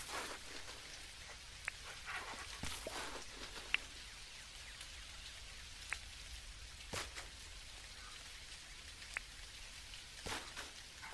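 Rain falls in the video game Dinkum as a soft, faint, steady hiss, broken by a few brief louder patters and clicks.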